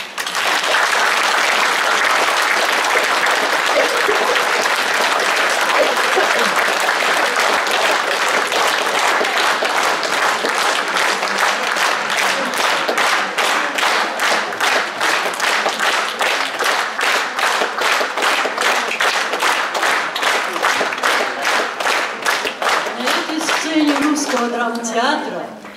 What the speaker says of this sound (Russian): Аплодируем им.